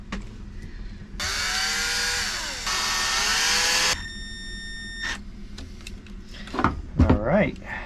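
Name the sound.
driving screws back into a Maxxair fan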